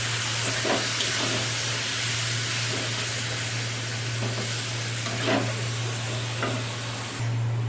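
Cumin seeds and dried red chilies fry in hot oil in a kitchen pan, giving a steady close sizzle with occasional stirring scrapes over a constant low electrical hum.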